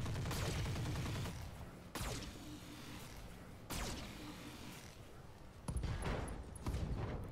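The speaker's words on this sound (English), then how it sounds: "Machine guns are empty." Heavy mech machine guns fire in the Roguetech video game, sustained dense bursts broken by brief pauses, loud and close with a sharp fresh volley near the end.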